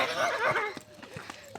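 A small rescued dog, a stray picked up by people living on the road, makes soft whimpering, whining sounds close by in the first half, followed by a few faint thumps and shuffles while a person speaks gently nearby.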